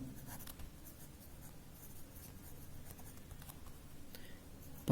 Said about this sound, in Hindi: चलिए लिखते हैं।